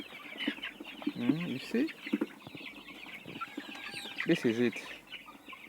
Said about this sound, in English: Are you seeing how chickens are very enjoying that delicious meal?